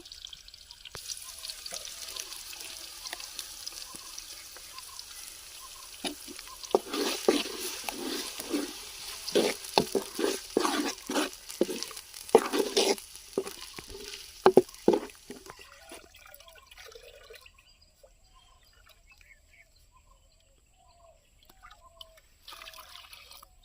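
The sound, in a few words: ground masala frying with onions in pan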